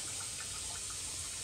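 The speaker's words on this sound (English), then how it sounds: "put some water on top like that to keep these submerged under" Water poured from a tap over rawhide soaking in a container, a steady close splashing flow with no talk.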